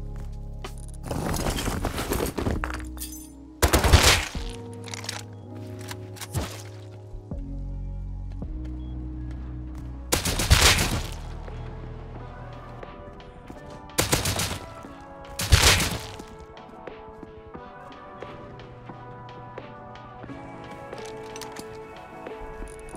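Bursts of AK rifle fire in the Rust video game ring out loud and close at irregular intervals, a few sharp volleys standing out over a steady bed of game ambience and low tones.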